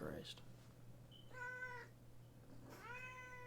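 Cat meowing indoors, two distinct drawn-out meows, the second rising in pitch, heard close over a low steady hum.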